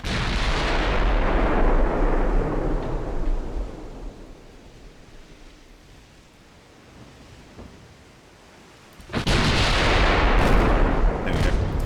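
Heavy battleship guns firing in the naval game Ultimate Admiral Dreadnoughts, Richelieu versus Hood: a loud booming salvo rumbles and fades, then another powerful blast erupts near the end.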